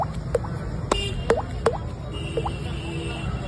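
A voice imitates water drops dripping, making a series of short, bright, pitch-bending plops spaced irregularly over a faint background hum, close and clear.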